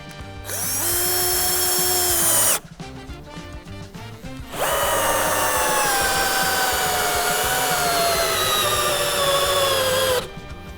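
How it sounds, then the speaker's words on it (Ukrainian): A cheap Dnipro-M CD-218 cordless drill driver whines loudly as it drives a screw, in two long sustained bursts separated by a short pause of clicking and rattling, with the motor pitch sagging under load. "Пробуємо докрутити, але щоб шуруповерт від мене не втік."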